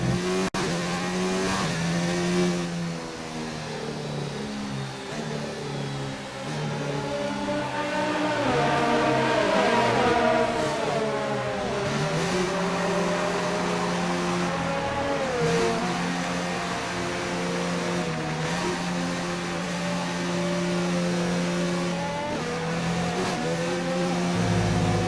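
Formula 1 car engine at the Australian Grand Prix in the F1 2019 racing video game, a loud continuous high-pitched whine rising and falling through gear shifts with faint tire squeal, no talking.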